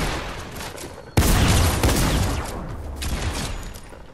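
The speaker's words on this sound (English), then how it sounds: "You have a shotgun, use it." A shotgun goes off in a video game, a sudden loud blast after a second of quieter noise, followed by rumbling, crackling decay and further rapid shots.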